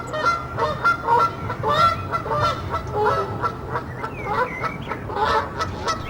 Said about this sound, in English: a landscape pond is a refuge for water birds.